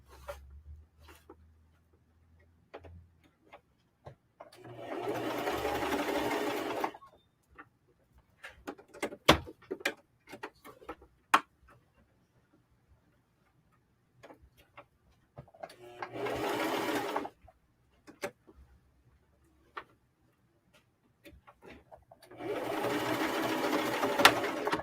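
A sewing machine stitches a hoodie in three separate bursts of whirring, with quiet gaps between them filled by scattered clicks and handling noises, heard close.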